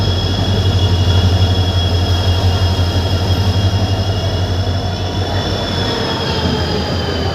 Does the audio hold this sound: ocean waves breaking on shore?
no